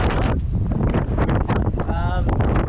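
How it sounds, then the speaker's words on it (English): Steady roaring 20-knot wind buffets the microphone on a sailboat throughout, a loud continuous rush with a brief whistling tone near the end. "it's pretty windy. 20 knots, 20 knots."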